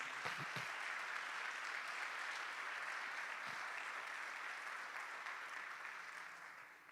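Sustained, dense congregational applause fills a church service, a steady wash of many hands clapping at even loudness, gently tapering toward the end with no voices on top.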